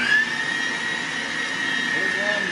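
A Cheffano electric meat grinder, a $70 model, runs with a steady high-pitched motor whine and hum, held close and constant for a couple of seconds.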